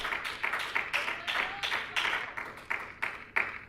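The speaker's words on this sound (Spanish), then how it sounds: "¿Cuánto le da un fuerte aplauso al Señor?" A church congregation claps together in steady rhythmic applause, loud and close, with a short burst of claps every fraction of a second and no talking over it.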